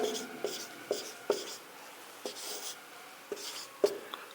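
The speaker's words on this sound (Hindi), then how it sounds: "तो यहाँ पर लिखेंगे पाइथागोरस" Sparse, faint strokes of chalk or marker on a classroom board sound as a trigonometry lesson is written out, a handful of soft taps and scrapes set apart by quiet gaps.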